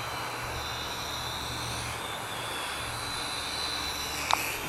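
A Sharper Image Platinum Series Lunar 14.4-inch FPV drone gives off a steady, high-pitched rotor whine at a constant level, with wind noise and no speech.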